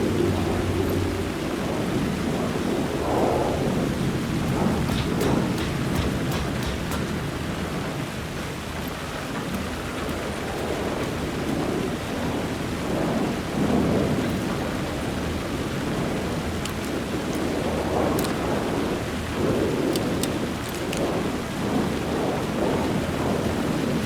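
Steady heavy rain in the video game Alan Wake 2, with low rumbles of thunder rolling in and out beneath the continuous downpour.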